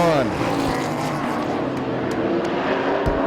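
Race cars at Midvale Speedway in a side-by-side battle coming off turn two, engines roaring loudly with rising whines of cars passing close, while an announcer talks over the racing throughout.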